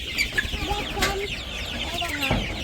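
Chickens inside a village chicken house, a flock of clucks and soft squawks scattered close and far over a busy rustling background.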